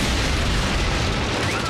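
Gunfire and explosions from the Transformers Prime cartoon, dubbed in Hindi. A dense, loud, continuous roar of blasts fills the whole stretch with no clear gaps.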